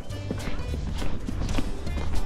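Horse hooves clip-clopping on a street in an irregular stepping rhythm, close and fairly loud, with faint background noise and occasional voices.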